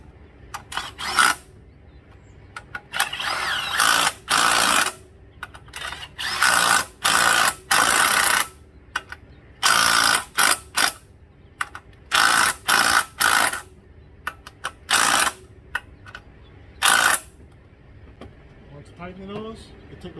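Valve cover bolts on a 2012 Nissan Altima being tightened, a loud close power tool whirring in repeated short bursts of one to two seconds with gaps between, a brief ratcheting rattle near the end.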